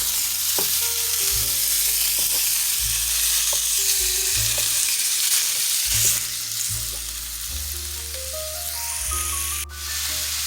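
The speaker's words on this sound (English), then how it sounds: "in a frying pan over medium-high heat, we're going to place our ground beef" Ground beef frying in a pan over medium-high heat, with a steady, loud, close sizzle throughout and clinks as the meat is broken apart, under background music.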